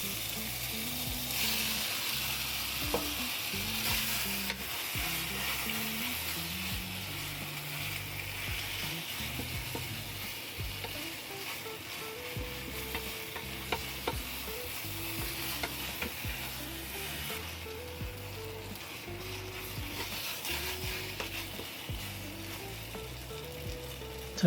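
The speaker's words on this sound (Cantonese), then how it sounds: "我哋而家落埋啲腸粉落去炒啦" Rice noodle rolls stir-frying with beef and onion in a hot wok, a continuous sizzle under rapid rhythmic scraping and clattering of a spatula, close and steady throughout with no talk.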